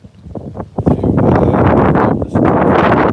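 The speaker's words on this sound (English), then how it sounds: "Sorry about the wind." Heavy wind buffeting the microphone, a loud continuous rumble that rises and stays strong throughout, with some rattling at the start.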